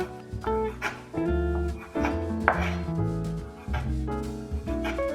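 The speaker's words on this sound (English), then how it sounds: "We first need to chop some pork belly into small pieces." A knife chops pork belly into small pieces on a board for Chinese fried rice, heard as a few firm knocks, close and fairly loud, under steady background music.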